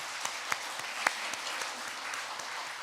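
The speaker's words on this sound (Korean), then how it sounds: "한번 박수 쳐 주시기 바랍니다." A church congregation applauds during a Sunday worship service, a faint, steady patter of many hands with a few sharper claps, continuing evenly without voices.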